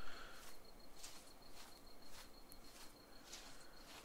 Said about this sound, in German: Ich liebe Grillengeräusche.